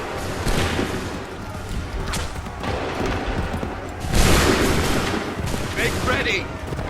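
Musket volleys in Assassin's Creed III: dense rolling gunfire cracks out in ragged bursts, with a louder volley near the middle, over continuous battle noise.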